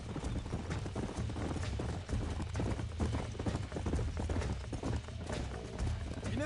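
Horse hooves clip-clop steadily on hard ground under a low continuous rumble, with a brief whinny near the end, in the video game Red Dead Redemption.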